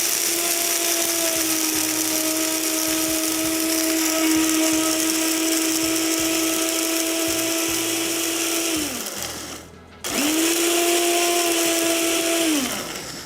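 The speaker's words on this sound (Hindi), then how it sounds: "इसको बिल्कुल बारीक पीस लेंगे" Electric grinder running steadily at close range, finely grinding poppy seeds and spices with a loud whirring motor hum, briefly cutting out near the end, then whirring again for a few seconds before stopping.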